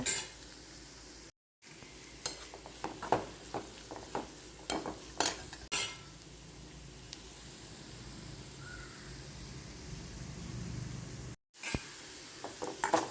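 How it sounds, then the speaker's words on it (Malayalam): Steamed carrots with pepper powder stirred in a pan, a spoon scraping and clinking against the metal in repeated close strokes over a soft sizzle. "കുരുമുളക് പൊടി ഇട്ട് കൊടുത്ത ശേഷം നന്നായിട്ടൊന്ന് ഇളക്കി കൊടുക്കുന്നുണ്ട്"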